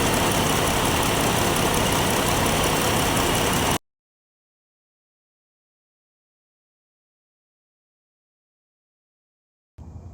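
The radiator fan of a Jeep Wrangler JL with the 3.6L Pentastar engine runs as a loud, steady whirring rush, cuts off abruptly into silence after a few seconds, then briefly starts again at the very end.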